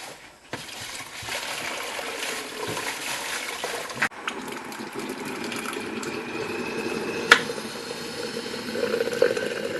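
Vinegar trickles and gurgles steadily through a limescaled jug and out over its spout, a continuous close liquid flow with a brief knock partway through.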